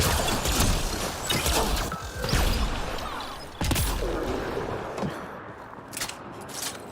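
Gunfire from shooting at relics and Kett in Mass Effect Andromeda, a dense run of bursts and impacts with clattering mechanisms that sits loud and continuous throughout, with a sharp louder hit midway.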